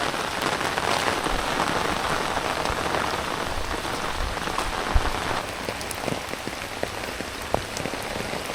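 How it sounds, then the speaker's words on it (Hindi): Heavy rain pours steadily on surfaces in a village, a dense, loud, unbroken hiss with scattered close drips and splashes and no voices. "अभी और भी ज़्यादा तेज़ बारिश हो रही है"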